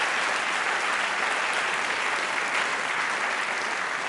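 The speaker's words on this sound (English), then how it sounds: "I just want to invite one more round of applause for Robert Rosencrantz" A lecture audience at a science-and-God debate applauds, a dense, even wash of many hands clapping without a break.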